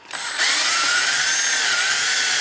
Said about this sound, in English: You're aiming straight into it, that way you're drilling through into it.